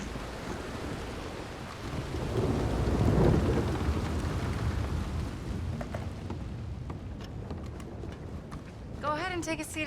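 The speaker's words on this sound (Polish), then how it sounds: "Deszcz pada, masz rację." Rain falling in Red Dead Redemption 2, a dense, continuous downpour hiss with low rolling rumbles swelling in the middle, thinning later as voices briefly come in at the end.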